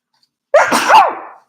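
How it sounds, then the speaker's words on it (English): A single loud, sharp human sneeze bursts out after a brief silence, rising into a strained vocal peak and trailing off within about a second. "Oh, God, that was a real sneeze."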